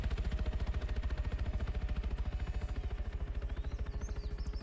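Helicopter in a military video game, a steady rapid rotor chop pulsing evenly throughout at moderate, fairly distant level with no talk.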